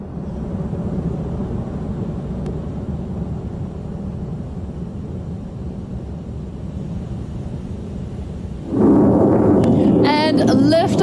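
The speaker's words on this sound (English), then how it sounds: "And liftoff of Electron from Launch Complex 2" Rocket Lab Electron rocket lifting off from Launch Complex 2 in Virginia, its Rutherford engines firing: a steady low rumble of launch noise swells suddenly into a louder, broader roar near the end, with crowd-like noise on top.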